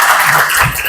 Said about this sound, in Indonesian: sudah tepuk tangan dulu kita semua